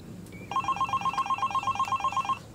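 A telephone rings with a fast electronic trill of even, rapid pulses that starts after a quiet moment and carries on for about two seconds, close and alone without any talk.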